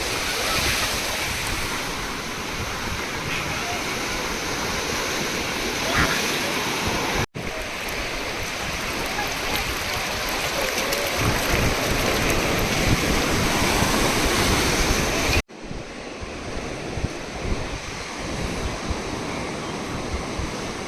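Waves wash steadily onto a clean sandy beach in a continuous broad roar, close and loud, with brief cuts in the recording and no voices.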